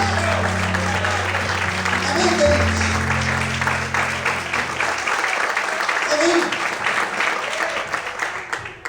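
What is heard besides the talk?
congregation applauding in church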